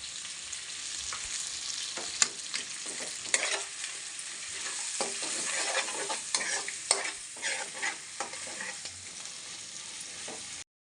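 Ground masala fries and sizzles in a pan for a country chicken fry, with a spoon scraping and stirring through it in repeated strokes over a steady, close crackle, no voices.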